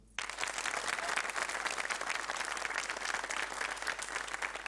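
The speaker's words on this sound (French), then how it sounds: "Applaudissements" Studio audience at a Cameroonian comedy show bursts into applause, a dense, even roll of clapping that starts abruptly and continues throughout at a fairly quiet, distant level.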